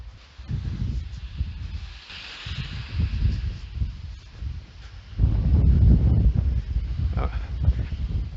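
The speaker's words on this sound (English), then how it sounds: "It's a little windy." Gusty wind buffets the microphone outdoors with a hissing, rumbling roar that rises and falls, louder in the second half, under a voice.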